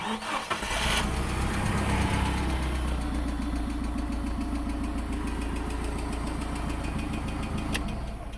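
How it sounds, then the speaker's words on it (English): A 4-cylinder gasoline engine fires up and settles into a steady, loud running idle close by, with a continuous low rumble and faint mechanical clatter throughout. "I don't even know what kind of engine in it, but it's a 4-cylinder. It's gasoline powered"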